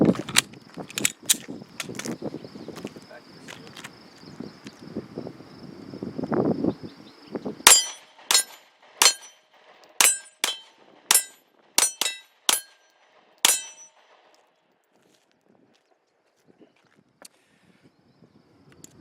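A Sig P320 pistol fires steel cased ammunition in a string of about nine sharp, loud shots at an uneven rhythm, each leaving a short ring, after several seconds of quieter handling noise.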